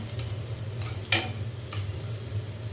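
Onions fry in oil in a pan where fish and potatoes were fried earlier for a rohu and cauliflower curry, giving a continuous close hiss with one sharp utensil clack partway through.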